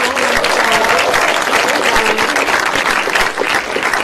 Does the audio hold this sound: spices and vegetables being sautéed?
no